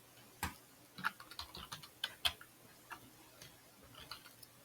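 Code is typed on a computer keyboard in a quiet room, with faint scattered key clicks, a few sharper taps among lighter irregular strokes, and no talking.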